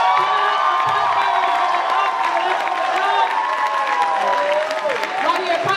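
Audience at a Louder Than A Bomb poetry slam applauds and cheers loudly and continuously during the results announcement, a dense wash of clapping with whoops and shouts throughout.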